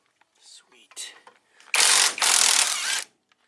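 A ratchet works loose bolts on the brake caliper of a 1967 Triumph GT6, with a few faint clicks and then two loud, sustained ratcheting bursts close up.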